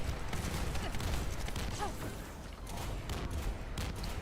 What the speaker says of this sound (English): there is nothing but explosions